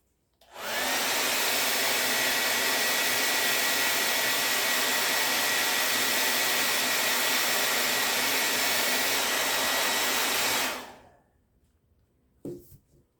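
Hair dryer blowing on painted Dollar Tree tray pieces, a loud steady roar for about ten seconds that cuts off abruptly, followed by near silence and a faint knock.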